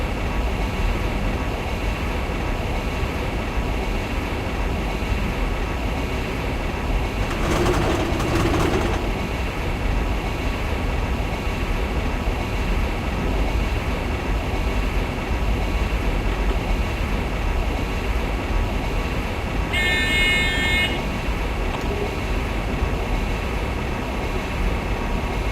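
An ICE 2 high-speed train in Train Simulator 2017, on the route between Berlin and Leipzig, runs with a steady rumbling drone and brief bursts of noise along the way, with no talking.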